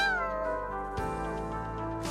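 A cat in the video game Aether Gazer gives drawn-out, close, clear meows, one running into the next, with no talking.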